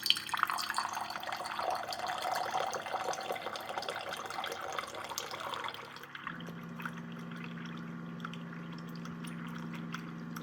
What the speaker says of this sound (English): Here's 12 ounces, and then we'll dispense.